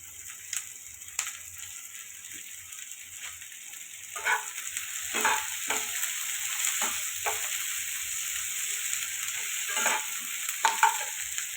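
Tomatoes frying in a pan for a pea and potato curry, a steady soft sizzle with intermittent scraping stirs of a spoon against the pan, close by and with no talking.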